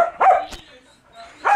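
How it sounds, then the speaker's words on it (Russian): A dog at an animal shelter gives two short, loud barks close to the microphone, separated by a quieter pause with faint background noise. "Смотри, какая красивая собака."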